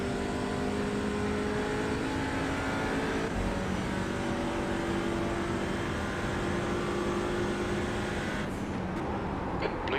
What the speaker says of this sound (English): Here come the GT4 class cars.